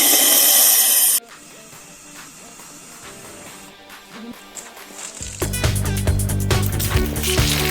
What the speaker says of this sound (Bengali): যে এই যে থামস আপটা রয়েছে তার মধ্যে এই এলপিজিটাকে দিতে হবে